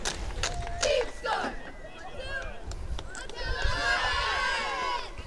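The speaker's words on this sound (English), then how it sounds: "Good crowd on hand here tonight for the Lions." A crowd at a night high school football game between the South Lyon Lions and Plymouth Salem Rocks roars and cheers, with shouting voices rising and swelling in a loud, continuous wash.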